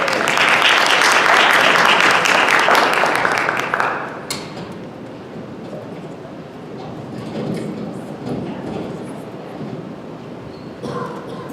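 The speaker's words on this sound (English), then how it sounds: "So please give a round of applause for Alaa." An audience at a mental health stigma panel applauds for a speaker, a dense, loud burst of clapping for about four seconds that then fades to scattered claps and room murmur.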